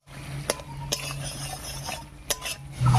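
Spice paste with ground nut paste for a kakrol curry stirred in a pan, with a few sharp utensil scrapes and clinks over a low steady hum, fairly quiet, no talk.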